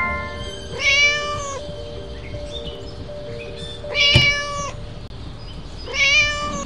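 A cartoonish cat in the Scary Teacher 3D mobile game meows three times, each call rising and falling, spaced a few seconds apart over a faint background hum.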